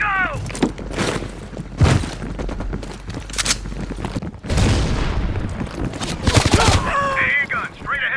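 Anti-aircraft gun fire in Call of Duty Black Ops Cold War: rapid heavy gunfire and booming blasts in dense bursts, with shouting voices layered over the battle and a sharp thud partway through.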